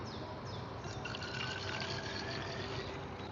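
Alcohol fuel poured into a small camping stove, a steady liquid trickle and splash running continuously at close range, with no voices.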